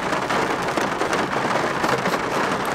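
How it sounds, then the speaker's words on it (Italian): Heavy rain pours down in a dense, continuous hiss with a thick patter of drops, loud and close throughout. "Piove troppo"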